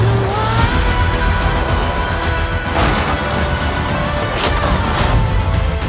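A car is driven with a loud engine roar and road rush, with rumbling booms and dramatic noise layered on top throughout.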